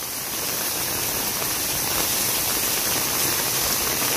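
A heavy Nepal downpour roars as an unbroken, loud wash of noise, constant from start to finish with no talking.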